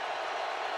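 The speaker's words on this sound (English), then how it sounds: "Crowd exhorting the Niners defense" A stadium crowd roars for the San Francisco 49ers defense against the Vikings at a Monday night NFL game in 2015, a dense, steady wash of distant cheering.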